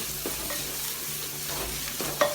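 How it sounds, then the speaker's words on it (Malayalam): Onions and thin slices of coconut fry for a Kerala beef curry while a spoon stirs them, a steady sizzle broken by scraping strokes and a sharp clink near the end. "ചെറിയ തേങ്ങ പകുതിയോളം നമ്മൾ ഇതുപോലെ കട്ട് ചെയ്താണ്, അത് ആഡ് ചെയ്തു നന്നായി ഇളക്കുക."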